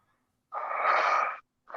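A person lets out a single long, breathy yawn lasting under a second, close and clear against silence, with the start of another breath right after.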